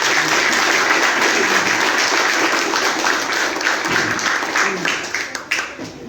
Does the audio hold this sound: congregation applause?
yes